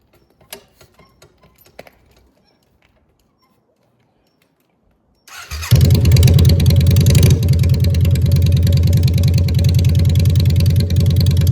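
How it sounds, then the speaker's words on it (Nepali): After a few quiet clicks, a custom motorcycle engine fires up abruptly and settles into a loud, steady idle that runs on close by. "बाइक चाहिँ स्टार्ट भयो"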